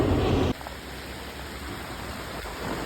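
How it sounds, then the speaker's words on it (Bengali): Dense, steady hiss of heavy rain pouring down, louder for the first half second and then an even, continuous wash of noise. "কালকে থেকে বৃষ্টি দেখতে পাচ্ছি বন্ধুরা প্রচন্ড বৃষ্টি"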